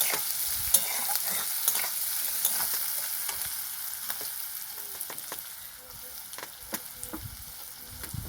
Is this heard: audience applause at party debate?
no